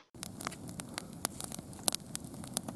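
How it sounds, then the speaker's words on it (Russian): Campfire burning outdoors, with soft irregular crackles and sharp pops over a low steady background, fairly close and with no talking. "давайте распалим костер и посмотрим его в деле"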